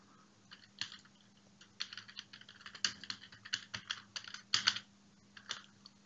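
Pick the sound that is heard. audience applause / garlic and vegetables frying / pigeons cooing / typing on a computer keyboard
typing on a computer keyboard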